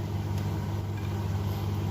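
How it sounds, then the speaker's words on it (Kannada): A mixer grinder whirs as it grinds dry-roasted masala for mutton masala, a steady loud motor drone held evenly from start to finish with no voices. "ಡ್ರೈ ರೋಸ್ಟ್ ಮಾಡಿದ ಮಸಾಲವನ್ನು ಇವಾಗ ಮಿಕ್ಸಿ ಜಾರಿಗೆ ಹಾಕಿ ಗ್ರೈಂಡ್ ಮಾಡ್ತಿದ್ದೇನೆ"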